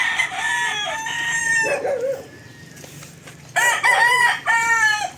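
Caged roosters crowing at a poultry farm, several loud drawn-out calls close by, with a pause and some clucking between bursts.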